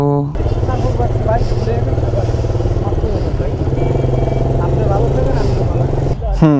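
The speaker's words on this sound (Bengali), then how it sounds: "সো আগে হচ্ছে বাইকটা পার্ক করব, দেন ভিতরে ঢুকবো।" A motorcycle idling and rolling in to park at a bike show, its engine a loud, steady close drone throughout, with voices talking over it.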